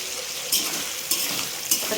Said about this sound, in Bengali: তেলের মধ্যে পেঁয়াজ লঙ্কা ভাজা চলছে